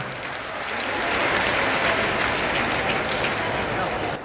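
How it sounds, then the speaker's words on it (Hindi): A large crowd at Bageshwar Dham claps loudly and steadily for the stage, a thick, continuous roar of applause that swells and holds, with faint voices underneath. "एक बार पूरे मंच के लिए अभिनंदन करें, जोरदार तालियां बजाएं।"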